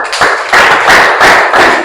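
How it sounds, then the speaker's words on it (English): An audience gives a big hand clap for donors at a community give-back event: several bursts of loud, close clapping in quick succession with no voices. "they deserve a very big hand clap"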